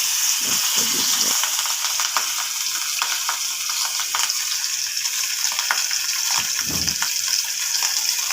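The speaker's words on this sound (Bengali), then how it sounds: "মাছটা দিয়ে দিলাম তেলের মধ্যে। এবার মাছটা ভাজা হচ্ছে আস্তে আস্তে।" Fish frying in hot oil, a steady dense sizzle and crackle with occasional soft low bumps, close and continuous without talk.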